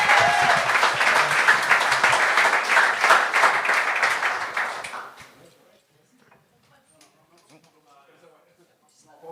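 A comedy show audience claps and cheers in a full, lively burst that holds for roughly five seconds before fading quickly into near silence, with faint murmurs afterward.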